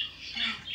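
A bird gives a single harsh, raspy squawk, brief and fairly close, standing alone without talk.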